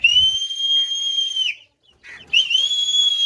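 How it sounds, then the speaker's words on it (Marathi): A man's shrill, steady whistle calls crows in a village, sounding in two long sustained blasts separated by a short pause, loud and close with no talk. "नुसते शिट्टीवरच एवढे सगळे कावळे जमा झालेले आहेत"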